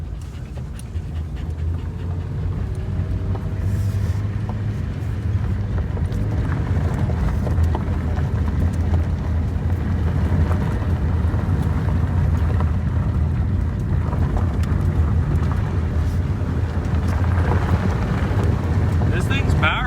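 A ten-dollar old car drives in second gear at about 25 mph, its engine making a continuous low rumble under wind noise, with someone talking over it.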